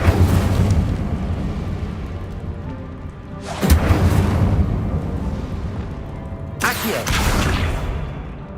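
Incendio fire spell cast in the Hogwarts Legacy video game, heard as two loud whooshing bursts a few seconds apart over a steady low rumbling background.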